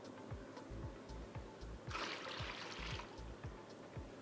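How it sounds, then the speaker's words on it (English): A commercial water dispenser pours sparkling water into a carafe: a steady gushing, fizzy stream that swells briefly in the middle, with a soft rhythmic pumping thump beneath, close and continuous. "Now I take another liter of sparkling water."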